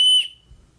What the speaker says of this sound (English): Here's what the whistle sounds like.